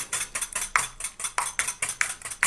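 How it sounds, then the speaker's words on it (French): A hair-care paste is whisked briskly in a bowl, with rapid, regular scraping strokes repeating several times a second, close and alone. "Et on n'arrête pas de fouetter."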